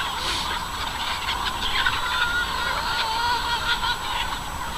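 A flock of pasture-raised chickens clucks and calls continuously, many birds overlapping in a busy, steady chatter close by.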